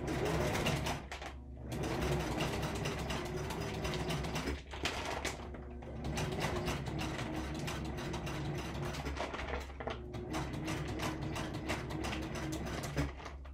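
Sewing machine stitching a tote bag made from an upcycled dog food bag, a steady mechanical whirring and rattling that runs almost continuously, with short pauses near the start and midway, loud and close throughout.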